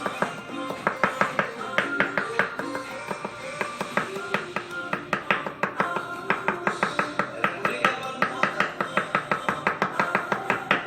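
A knife finely dices vegetables for pico de gallo on a cutting board, with rapid, even chopping taps repeating close and crisp throughout.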